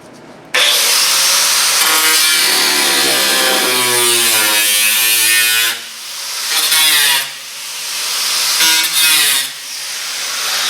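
A wire wheel grinds rust off a rotted body panel of a junkyard Cadillac, a loud continuous abrasive whine that wavers in pitch and briefly eases off a few times as the tool shifts across the metal.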